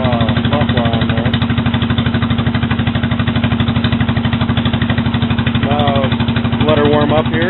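Small engine of an SS12 plus, running with no muffler and warming up after a cold start on choke. It gives a loud, steady, rapid pulsing idle, close up, with someone talking over it.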